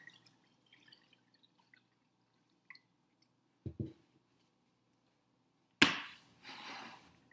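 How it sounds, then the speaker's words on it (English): Vinegar is poured into a clear bowl: a few faint taps and drips precede a short, splashy liquid pour near the end, quiet and close. "we are going to pour in some vinegar."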